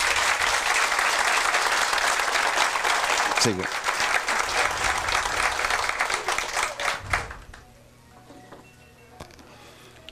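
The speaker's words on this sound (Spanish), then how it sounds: "yo pido a este público un aplauso para nuestros regidores" An audience at a municipal accountability meeting applauds town councillors with sustained, loud clapping that fades after several seconds as someone speaks briefly.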